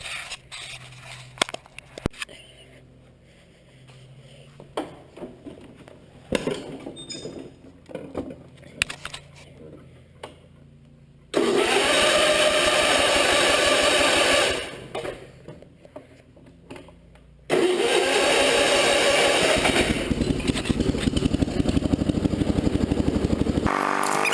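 A 1975 Sears Suburban ST16 garden tractor engine revs up under throttle in two loud sustained bursts, with quieter clanks and handling noises before them, near and without speech.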